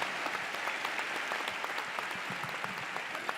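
Audience at a drug-legalization conference panel applauds with sustained, even clapping from a large crowd throughout, moderately distant and without talk.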